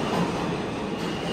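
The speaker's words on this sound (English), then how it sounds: "I need to catch my train" A subway train rumbles steadily through a New York station or tunnel, a dense continuous roar with broadband rattle and no clear breaks, fairly loud and close throughout.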